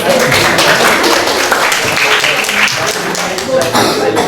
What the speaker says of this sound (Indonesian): Kita beri tepuk tangan buat Iman.